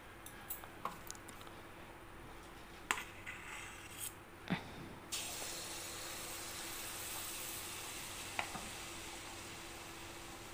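Mango malpua batter frying in hot oil on a gas stove, a steady close sizzle that thickens halfway through, with scattered sharp ticks and pops and no talking.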